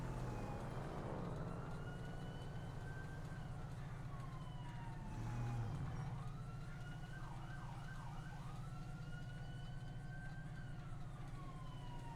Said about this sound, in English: I can hear those sirens.